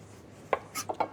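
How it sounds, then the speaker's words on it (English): A chef's knife rides under the skin along the length of an aubergine, giving a few short, close scraping and slicing strokes in quick succession against a quiet background. "ride your knife under the skin down the length of the aubergine"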